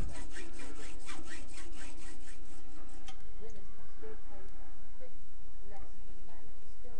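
A rapid rasping saw stroke cuts off a small metal piece for a Villiers carburettor top, repeating in an even rhythm at first, then settling into a lighter, steady grinding scrape up close.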